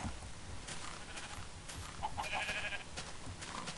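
Sheep bleat in the Minecraft video game, with short synthetic bleats over a steady background of game sound.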